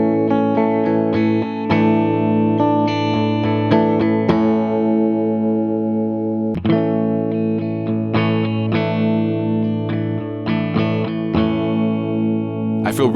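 A clean electric guitar tone, one take through a tube amp and one through a Strymon Iridium amp simulator pedal. Sustained chords and single notes ring out with clear attacks and a short pause midway, played alone and close.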